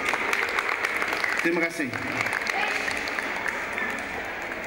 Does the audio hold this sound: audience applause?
yes